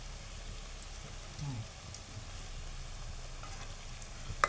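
Taro leaf fritters frying in hot oil while being flipped, giving a faint, steady bubbling sizzle with a soft clatter near the end.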